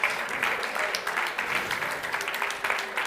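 Applause from an audience at a Forum Rolex EPFL unveiling event as the team goes on stage, a steady dense wash of clapping throughout, moderately loud.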